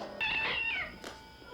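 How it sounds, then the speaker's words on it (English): A cat meows in a 1996 horror film scene, one drawn-out, fairly close cry followed by a brief second sound, with quiet background. "Kitty!"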